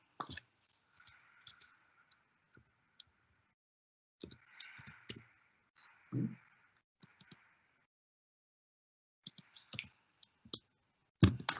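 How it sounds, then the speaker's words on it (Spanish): A computer mouse clicking while working in GeoGebra, with sharp clicks in short clusters separated by pauses, close and fairly quiet, with no voice. "hago un doble clic sobre la vista algebraica"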